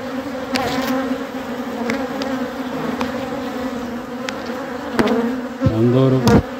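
Honeybees buzzing steadily close by, a dense continuous drone with individual bees passing near the microphone, growing louder toward the end.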